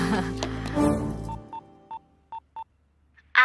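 Telephone dialing tones sound as a string of five short, evenly spaced beeps after a louder passage fades out, followed by a faint blip and a brief burst at the end.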